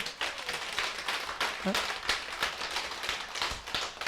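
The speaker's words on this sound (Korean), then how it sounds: "여러분하고 이렇게 만나게 됨을 박수로 우리 환영합시다." A small audience claps in welcome at a Korean seminar, a steady patter of hand claps filling the room at close range, with a brief vocal sound partway through.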